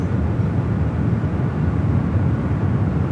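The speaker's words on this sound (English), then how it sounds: "this flight heading to Boston, flight 1734. It's an A321 Neo" An Airbus A321neo airliner at San Francisco airport, a steady broad engine roar that holds level throughout, dense and fairly loud with no distinct breaks.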